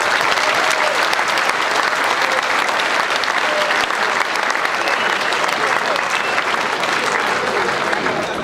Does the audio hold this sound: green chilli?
no